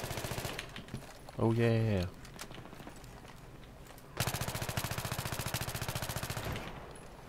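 Rapid bursts of PP-90 submachine gun fire in Battlefield 3, a close-quarters multiplayer match, with dense repeating shots at the start and a steady sustained stream in the second half, plus a brief spoken exclamation between bursts.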